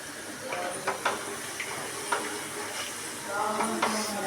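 Garlic paste frying in a pan is stirred with a utensil, producing a steady sizzle and hiss broken by occasional scraping clicks, close and moderate in volume.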